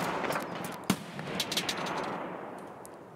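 A few sharp gunshot cracks in Escape from Tarkov, one prominent and several quicker ones, over a steady noisy background typical of game audio.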